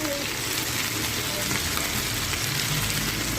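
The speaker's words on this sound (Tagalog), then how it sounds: "ibinabad ko yan sa barbecue sauce and then pinarito natin. Ay, napitik guys." Chicken marinated in barbecue sauce frying in hot oil, a steady close sizzle with scattered sharp pops throughout, no pauses.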